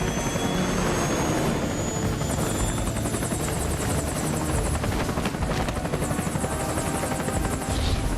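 Heavy rotor thump and turbine whine of a Mi-24A Hind D attack helicopter in the video game Metal Gear Solid: Peace Walker, loud and continuous with a throbbing rotor beat throughout, no talking.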